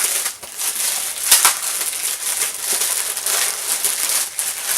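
Packaging of a Wild Force Ranger Keys toy being torn and crinkled open, a steady run of close, dry plastic and cardboard rustles with a few sharper crackles.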